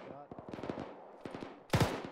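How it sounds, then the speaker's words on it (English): Rapid bursts of automatic gunfire in a tactical military video game, close and sharp, with a louder blast near the end and a voice speaking briefly. "It's shooting at us."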